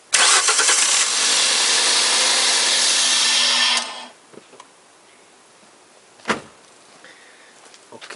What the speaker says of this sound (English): when I start that car like 5 seconds